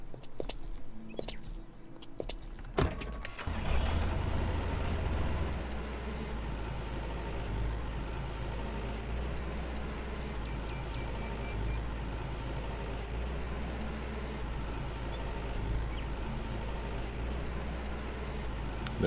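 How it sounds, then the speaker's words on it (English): Tractor in the Farmer's Dynasty video game, a low steady engine drone that starts after a few clicks and runs at even volume for the rest of the stretch, with no talking. "But let's grab the tractor and head on up."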